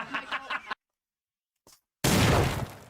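A single sharp, loud pop bursts out after a short silence, preceded by brief talking and a faint small noise.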